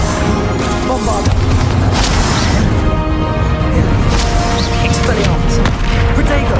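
Rumbling explosions from the Bombarda spell in the wizarding game Hogwarts Legacy, loud dense booms and crashing debris layered over constant battle noise, with several sharp bursts through the stretch.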